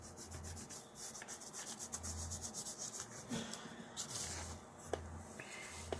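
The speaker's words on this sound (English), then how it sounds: "you can like pinch some in your finger and like rub it over it, or you can lay it on top and pat it down" Fingertip rubbing and patting gilding flakes onto a surface, a quiet, close, continuous dry rubbing and scratching with a few brief ticks and a low periodic hum underneath, no talking.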